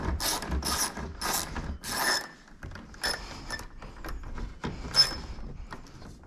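A hand ratchet clicks in quick bursts, loosening a headlight mounting bolt on a 2022 Ford F-350 King Ranch, with close, repeated pawl clicks and brief pauses between strokes, no talking.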